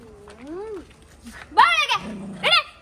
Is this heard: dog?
yes